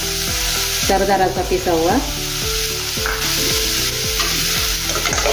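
Ginger and garlic frying in a pan with tomatoes, stirred steadily with a utensil; a continuous loud sizzle with rhythmic scraping strokes, and a voice briefly speaks over it.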